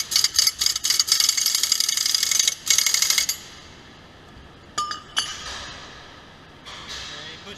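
A wrench tightens the last nut on an axle, giving quick bursts of close metallic clinks and ratcheting for about three seconds, then a quieter stretch broken by a few isolated clicks.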